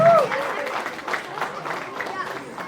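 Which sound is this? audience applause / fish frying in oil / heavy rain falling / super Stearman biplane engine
audience applause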